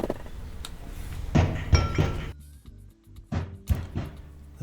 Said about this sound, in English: That was the sound of loot coming out of the hopper.